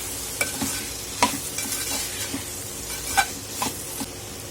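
Kadvanchi, a small bitter-gourd-like vegetable, stir-fried in a pan after salt is added: repeated scraping strokes of a spoon against the pan over a steady sizzle, close, with a few sharper knocks, no talking.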